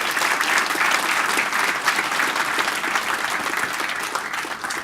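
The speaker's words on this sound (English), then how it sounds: "let's give Jay a round of applause" A tech-talk audience gives a round of applause to a speaker after a WebAssembly presentation, dense, even clapping from many hands that stays loud throughout and tapers only slightly.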